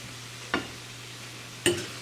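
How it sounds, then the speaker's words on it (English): A sauce sautéed in a pan with water instead of oil is stirred twice, each stroke giving a brief scrape and sizzle over a quiet background hum. "There's no oil in either of these dishes, so I always saute things using just water."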